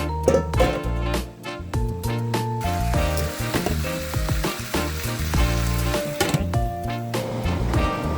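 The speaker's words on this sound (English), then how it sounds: "Add in the chicken to the pan." Loud, steady sizzling from a hot pan, with clattering and scraping bursts of stirring on top, continuous throughout with no talking.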